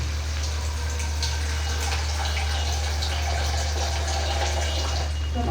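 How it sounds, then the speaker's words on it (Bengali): A little water is poured into simmering bean dal in a pot, a steady soft splashing pour over a constant low hum from the stove. "সামান্য একটু জল দেবো।"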